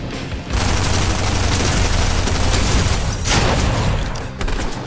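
Sustained heavy gunfire in a shooter video game, a loud, continuous roar of rapid shots and booms that barely pauses for several seconds.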